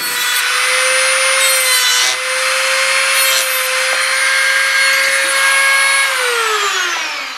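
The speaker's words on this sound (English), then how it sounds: "this will take a little bit more work with the cutoff wheel" A cutoff wheel grinds through metal on a South Bend shaper part, a loud, close, steady high whine with gritty rasp that winds down in pitch toward the end.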